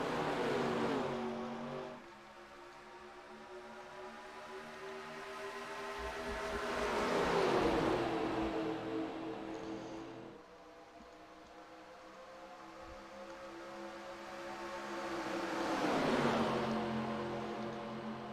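1987 Cup stock car V8 engines race at Talladega Superspeedway in a video game, rising and falling in two long passing swells with a steady droning roar, moderately loud and without talk.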